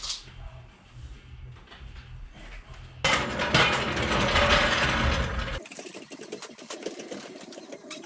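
A ratcheting car jack clicks rapidly as it raises a Corvette to mount its wheels, a dense metallic ratchet noise that grows louder midway and then shifts tone.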